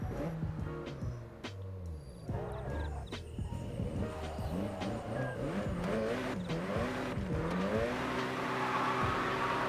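A car engine revs and wails through shifting pitches in the JDM Drift Master racing game, with tires squealing in a drift, loud and continuous from start to finish.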